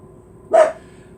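A dog gives one sharp, loud bark close by indoors, standing alone against a quiet background.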